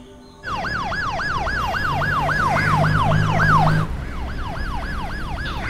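An ambulance siren wails loud and close in quick, regular up-and-down sweeps over a low vehicle rumble, then cuts off suddenly, leaving road noise behind.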